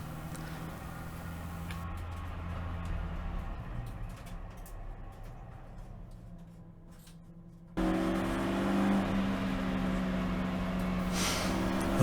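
A race car leaves the pits at Brands Hatch in a trophy race, its engine note rising steadily under the noise of the cockpit, followed by a sudden louder, harsher engine roar.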